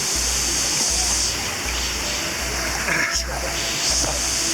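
Fast-moving river water rushing in Bali, a steady loud broadband roar close by with constant turbulent hiss and a low rumble underneath.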